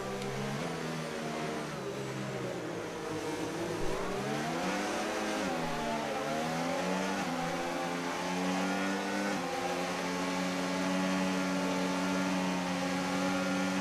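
Race car engine in a racing video game, held at high revs with its pitch sweeping up and down through gear changes, loud and continuous for the whole stretch with no talk over it.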